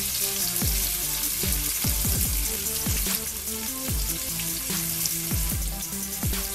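Chopped onion, one and a half heads, frying in a pan after browning for an oxtail dish, giving a steady close sizzle with faint music-like tones and soft knocks underneath.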